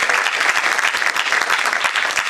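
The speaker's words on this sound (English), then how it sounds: "she receives a huge round of applause, please" Loud, dense applause from a conference audience, steady and sustained throughout with no pauses.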